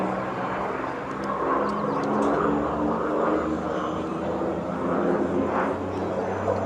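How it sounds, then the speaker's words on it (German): A Lockheed P-38 Lightning twin-engine fighter flying at an airshow, a sustained droning propeller roar that swells and recedes steadily at moderate distance, filling the whole stretch without speech. "now taking centre stage, one of my favourite aircraft, the Lockheed P-38 Lightning twin-engine fighter."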